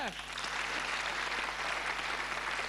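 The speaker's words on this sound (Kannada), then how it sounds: "ಚಪ್ಪಾಳೆ." Sustained applause from a TV quiz show studio audience, steady clapping throughout, with a brief voice at the very start.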